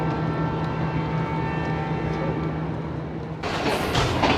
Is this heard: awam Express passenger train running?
yes